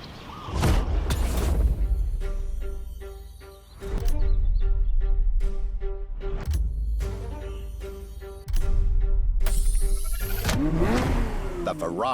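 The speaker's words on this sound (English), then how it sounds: "The Ferrari F50." Ferrari F50 racing in The Crew Motorfest, its engine revving loud and high in repeated surges with gear-change gaps, under faint background music.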